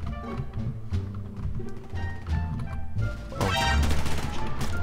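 Gunfire in the online shooter Survarium, a series of sharp cracks and bursts mixed into the game's busy ambience, growing louder and denser toward the end, close and forceful.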